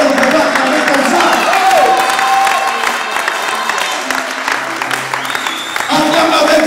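Church congregation applauding and cheering for the Lord, a dense continuous wash of clapping and crowd voices filling the room at steady loudness, with some shouts rising above it.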